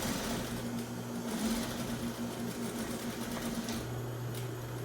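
A sewing machine stitching a half-inch seam on an envelope-style pillow cushion cover, a steady close mechanical whir with a fast, even hum that runs unbroken throughout.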